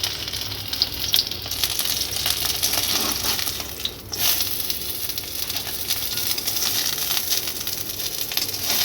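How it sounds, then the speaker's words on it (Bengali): Sliced capsicum, onion and tomato frying in oil left over from frying pakoras, a loud, dense, steady sizzle that hisses on without pause, close by. "পকোড়া ভাজার পর যে তেলটা থাকবে ওই তেলেই দিয়ে দেবো"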